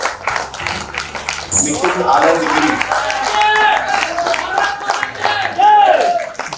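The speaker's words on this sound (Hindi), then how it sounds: "जोरदार तालियों के साथ हम स्वागत करते हैं श्यामल बादल आजमगढ़ का" An audience at a poets' gathering during a health parliament in Ayodhya claps loudly in welcome, a dense wash of applause beneath someone speaking over a microphone.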